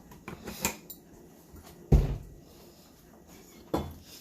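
A cooking pan is handled before oil goes in, giving a few separate metallic clanks and knocks, with a sharp rattle early on and heavier thuds near the middle and end, set against a quiet kitchen background.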